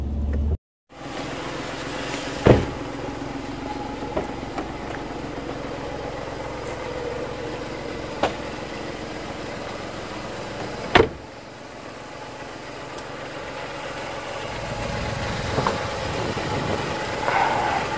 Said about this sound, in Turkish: Motorunu aç bakalım da arabanın bir motoruna bakalım ha